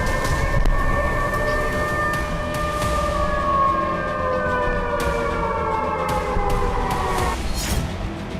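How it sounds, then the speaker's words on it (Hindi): A loud air raid alert siren wails in Belgorod, rising and falling in long sweeping tones, with a few sharp knocks and clatters breaking through near the end. "बेलगोरोद में पूरी रात एयर अलर्ट का सायरन गूंजता रहा है।"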